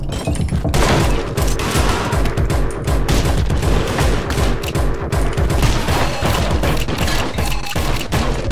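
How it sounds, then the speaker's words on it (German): Gunfire in the video game Anger Foot, loud rapid bursts of shots that keep pounding almost nonstop with deep booms, dense and close, with no speech. "Wir dürfen wenigstens schießen offensichtlich."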